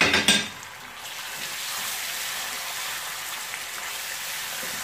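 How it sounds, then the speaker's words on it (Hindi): Small chicken pieces hit a pan of browned garlic and ginger with a brief clatter, then a steady, loud hiss of frying carries on evenly to the end. "और इसको अच्छी तरह मिक्स करके थोड़ा फ्राई कर लेते हैं।"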